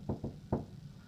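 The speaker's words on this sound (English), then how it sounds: "she knocked on the door" Three knocks on a wooden cottage door, two quick raps and then one more after a pause, close and clear with no talking.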